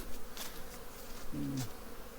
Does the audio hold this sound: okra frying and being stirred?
no